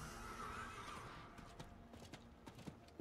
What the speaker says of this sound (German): So, aufs Pferd.